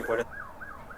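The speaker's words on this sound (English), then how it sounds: "When I hear like sirens," A siren wails in slow rising and falling sweeps, moderately distant, after a brief burst of louder noise at the start.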